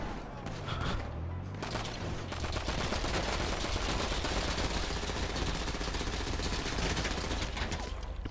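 Sustained rapid gunfire from a weapon in Grand Theft Auto, continuous and dense over several seconds, loud and up close with a steady rattling texture.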